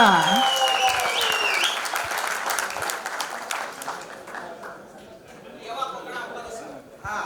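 A crowd at a school reunion celebration claps in loud, sustained applause, with a voice carrying over the opening moments before the clapping thins out.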